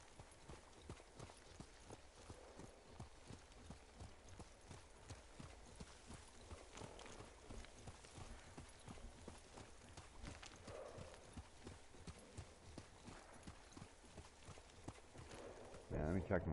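Horse hooves clip-clop at a steady walking rhythm in the video game Ghost of Tsushima, a continuous moderate patter running through the whole stretch with someone talking over it.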